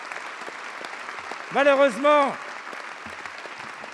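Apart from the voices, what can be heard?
applause in the French National Assembly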